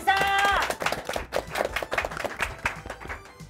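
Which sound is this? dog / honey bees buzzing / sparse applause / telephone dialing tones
sparse applause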